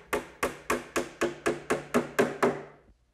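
Nine evenly spaced hammer strikes drive 5-penny box nails into the wooden top frame of a hutch, each a crisp, close, ringing blow at a steady rhythm, ending in silence.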